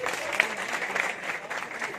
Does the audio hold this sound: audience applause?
yes